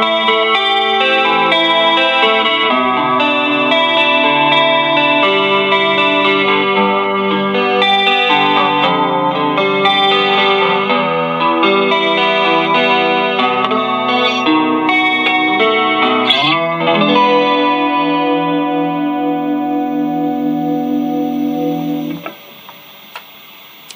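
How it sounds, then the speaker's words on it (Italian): A 1960-style Fender Stratocaster electric guitar on its neck pickup plays a sustained, ringing chordal passage with effects, loud and alone, then fades away near the end. "Quindi andiamo a sentire prima questo bellissimo pick up al manico"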